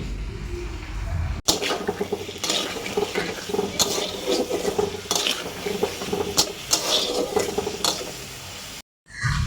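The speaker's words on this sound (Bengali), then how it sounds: "এরপরে নাড়াচাড়া করে আরও কিছুক্ষণ কষিয়ে নিতে হবে।" Raw mango pieces with soaked spices are stirred and fried in a pan, giving a continuous close sizzle mixed with rapid, busy scraping and clattering of a spatula on metal, fairly loud throughout.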